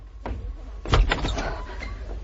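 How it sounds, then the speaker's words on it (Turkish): A door is opened in a Turkish radio drama scene, heard as a short creak and clatter of a handle and latch with a thud, close and fairly loud, with no talk over it. "Kapıyı açar mısın Emine?"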